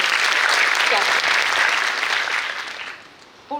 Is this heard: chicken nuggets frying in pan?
no